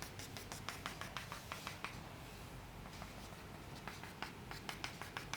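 A pen or compass point scratching on paper while drawing a semicircle, making rapid rhythmic strokes, close and quiet, heard alone with a brief pause in the middle.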